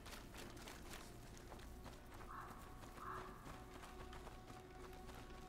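Horse hooves clip-clopping in the video game A Plague Tale: Innocence, a steady galloping patter running the whole time under a dense game soundscape with a couple of brief higher tones.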